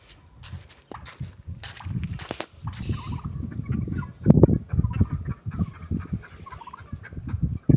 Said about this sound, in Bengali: মুরগি বড় বড় একটা বিশাল মুরগি